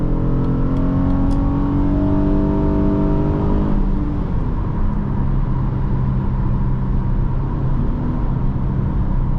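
A 2010 Acura MDX with a 3.7L engine revs hard toward 6,500 rpm, its rising engine note climbing steadily and loudly from inside the cabin before easing off into a lower, steady drone as it shifts.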